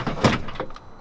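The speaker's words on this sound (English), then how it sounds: "I put on a door panel." A truck door panel is pressed into place with a quick cluster of plastic thumps and rattles, a louder knock near the start and a few lighter clicks after, close and brief.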